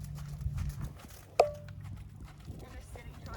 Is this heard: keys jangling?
no